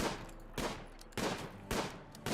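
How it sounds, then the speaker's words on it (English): Gunfire in the Rimworld video game, four sharp shots evenly spaced about half a second apart, each with a short decaying tail, loud and alone. "John Bon Jovi taking about 10 shots at the largest animal on the map"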